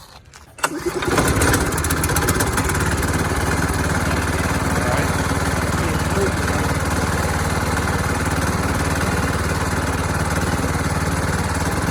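A Model T engine in a Shriner car catches after a brief start and settles into a loud, steady, close-up idle with an even mechanical chatter.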